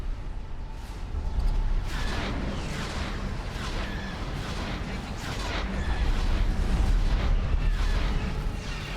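Explosions and weapon fire in the Star Wars Interworlds space battle game, sounding as a continuous rumbling barrage of booms and blasts that swells loudest around the middle and again near the end.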